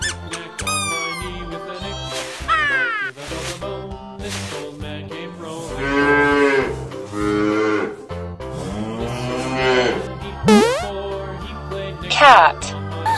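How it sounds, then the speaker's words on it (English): Cow moos, drawn-out and bellowing, rise repeatedly amid squeaky toy-like sounds and other animal noises, fairly loud and close. "Cow."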